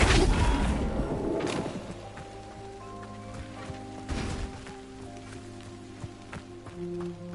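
A Flipendo spell in the Hogwarts Legacy video game strikes with a burst of noisy impact, and a second, shorter thump follows a few seconds later over quiet background game music.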